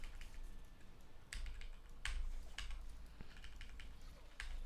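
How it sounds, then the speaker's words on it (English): Rapid, fairly quiet computer keyboard typing during a gaming stream, with dense clusters of key clicks and a few sharper bursts and no voices over it. "Am I also spam pressing keys?"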